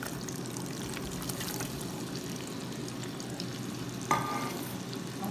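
Chopped onion frying in a pan for a sauce, a steady close sizzle and crackle with occasional stirring, one sharper clatter near the end, and no voices.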